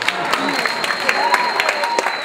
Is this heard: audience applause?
yes